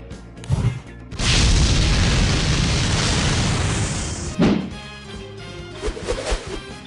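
A bomb explosion in a game scene: a loud, close boom that swells into a long roaring blast lasting several seconds, followed by a second thud and fading rumble.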